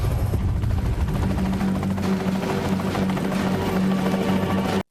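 Helicopter rotor drone from a low-budget 2004 giant Komodo dragon film, a steady loud thumping hum with strong low tones running continuously for about five seconds before cutting off abruptly.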